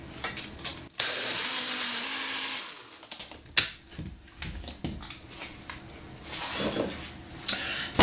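A blender whirs steadily and loudly, its motor pitch shifting as it runs, with clattering knocks and rattles mixed in.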